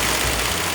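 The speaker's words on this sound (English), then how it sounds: "can you hear the sound of the sewing machine?" Industrial sewing machine stitching trampoline PVC panels, a steady loud motor drone throughout, continuous and engine-like with no pauses.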